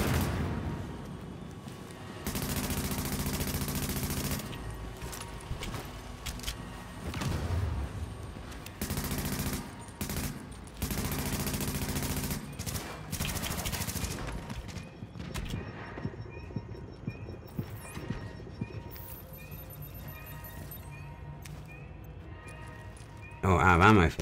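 Gunfire in the video game Tom Clancy's The Division comes in long automatic bursts, loud and dense, pausing between volleys before a sharp final blast.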